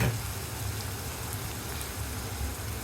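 Onion and sliced green chili frying in a pan give an even, dense sizzle with a fine crackling texture, steady and close from start to finish.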